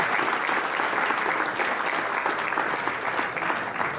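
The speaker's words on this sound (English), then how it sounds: "if you join me in giving Congressman Cloud a round of applause" A lunch audience claps for a congressman, a dense, even burst of applause that stays strong and continuous from start to finish, with no speech over it.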